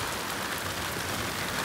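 Heavy rain pours down in Kanpur, giving a dense, steady hiss that stays even and unbroken with no voices.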